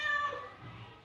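A cat being given a bowl of milk lets out a short, fairly faint meow, with soft background noise.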